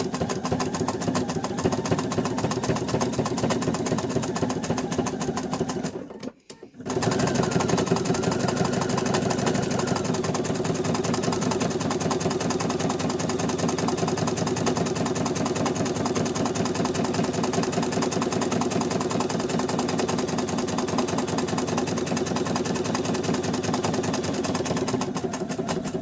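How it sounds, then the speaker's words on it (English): A sewing machine stitches around a sharp point, running steadily and loudly with a brief stop near the middle before the stitching resumes. "I'm going to take a couple of stitches because this is a sharp point."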